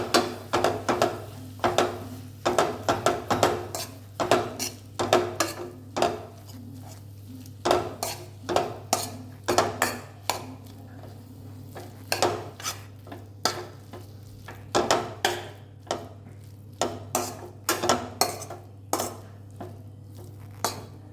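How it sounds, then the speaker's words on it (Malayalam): Mashed potato being stirred into masala dosa filling in a pan, with a steady run of close scraping and clinking strokes over a constant low hum, and no voices. "ഉരുളക്കിഴങ്ങ് ചേർത്ത് നന്നായി ഒന്ന് ഇളക്കി യോജിപ്പിക്കാം"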